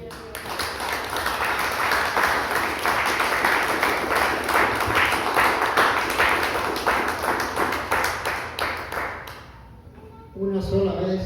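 Church congregation applauding loudly and steadily, a dense sustained clapping that fades near the end as a voice begins speaking.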